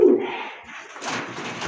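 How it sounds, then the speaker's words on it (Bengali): A pair of Turibaz pigeons at a bird market give low, throaty coos close by, one strong coo at the start followed by softer murmuring against faint background noise. "সুন্দর এক জোড়া তুরিবাজ কবুতর"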